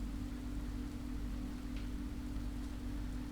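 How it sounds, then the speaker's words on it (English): Rain falls outside in the Tsukihime visual novel game, a steady, soft hiss of rainfall with a low continuous hum beneath it, even and unbroken throughout without any voices. "I heard the soft hiss of the rain falling outside."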